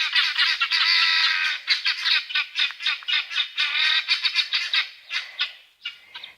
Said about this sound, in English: this is the sound of a male guinea.